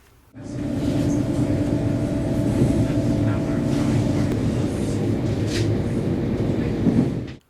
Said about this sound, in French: Nous arrivons à la gare de Venise-Mestre.